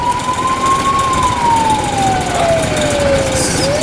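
A police siren wails in a steady, rising and falling sweep, loud and close, as the vehicle leads runners through a school cross country race near the school grounds, with road traffic rumble beneath.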